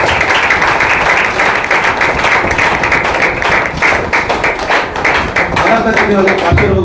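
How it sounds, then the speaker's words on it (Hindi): A congregation at a gospel preaching gathering claps loudly and continuously, a dense wash of hand claps mixed with thumps and taps and some voices underneath. "जोर से ताली बजाओ"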